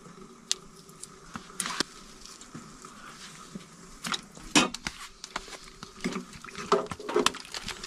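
Boned, seasoned lamb T-bone pieces and trimmed gristle go into a cooking pot in a winter shelter, heard as scattered soft thumps, wet plops and light metallic clinks, fairly quiet and close with pauses between.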